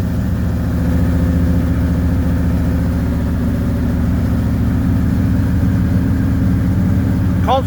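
Engine of a 1981 Camaro Z28 idling steadily just after a cold start with no choke, a continuous low rumble at close range with a slight rise in revs near the end.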